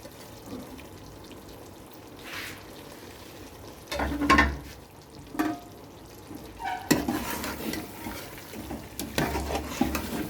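Green chili, ginger and coriander are stirred into chicken cooking in a pot for a Hyderabadi-style dish, giving soft scraping and wet stirring sounds over a low sizzle, with a few sharper clinks of the spoon against the pan.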